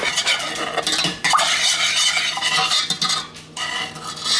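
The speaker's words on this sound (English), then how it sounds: "I'm just giving it a quick stir." A spoon stirs a sauce mixture for sweet smoked spare ribs, giving a continuous close scraping and clinking against the bowl for several seconds, with a brief dip near the end.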